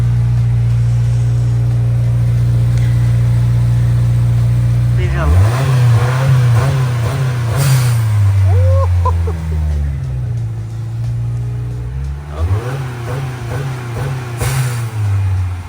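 A 2022 Subaru WRX engine idles steadily, then revs up in a couple of rising bursts that fall back, with a brief hissing blow-off valve release; fairly close and loud.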